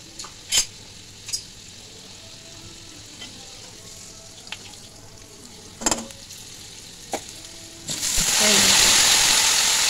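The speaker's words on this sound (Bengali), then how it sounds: "আমি এগুলোকে ভালো করে ভেজে নিই" Pieces of sweet potato frying in a pan for a chutney, a quiet sizzle underneath with a few sharp scraping or clinking strokes from stirring, then a louder, fuller burst of hissing near the end.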